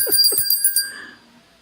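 Bright bicycle-style bell rung in a quick series of dings, close and clear, with the last ring left to decay into near silence.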